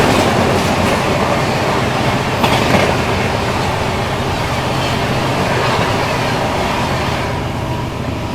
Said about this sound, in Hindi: तो अभी सामने से आ रही है आप लोगों की संबलपुर जम्मू तवी एक्सप्रेस।